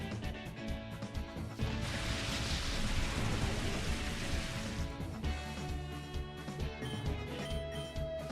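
Rain and thunder from the Rain Dance and Thunder moves in the video game Pokemon XD: Gale of Darkness, a dense rushing downpour that builds into a loud sustained rumble, then settles back under game music.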